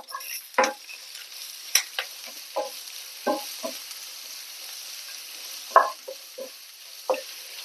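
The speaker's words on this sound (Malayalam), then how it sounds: "എല്ലാം കൂടെ ഒന്ന് വഴറ്റി കൊടുക്കാം. വെച്ചിരിക്കുന്ന വലിയ ഉള്ളി, സവാള" Sliced onions sauté in a pan with garlic, ginger and green chillies for a tomato curry, giving a steady light sizzle punctuated by sharp clacks of a spoon stirring against the pan.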